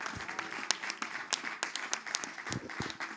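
Applause and clapping from a congregation welcoming a newcomer at a church gathering, a steady patter of hands with sharp individual claps standing out, moderately distant and without speech.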